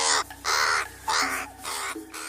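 A crow gives four loud, harsh caws in a steady rhythm, close and clear, with short pauses between calls and no talk over them.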